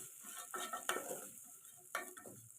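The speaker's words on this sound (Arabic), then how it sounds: "نبتدي نشوح كده الرز" Rice for Egyptian koshari is stirred and sautéed in oil in a pot, giving a soft steady sizzle with a few scraping utensil strokes, quiet and close.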